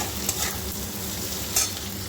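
Chopped onions and garlic sizzle steadily as they are stirred in a frying pan for chilli chicken, with a couple of soft scraping knocks from the spoon over the continuous close hiss.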